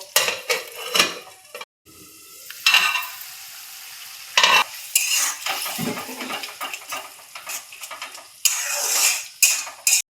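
Mustard paste fries in a pan, bursts of sizzling broken by spatula scrapes and clinks against the metal, with short quiet gaps between stirs.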